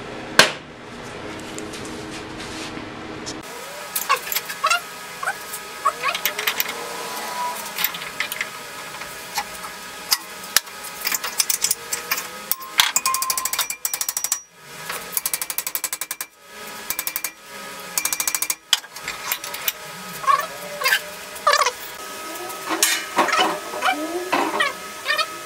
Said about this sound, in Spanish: Vamos a doblar las placas.